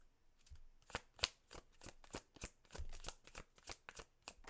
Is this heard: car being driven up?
no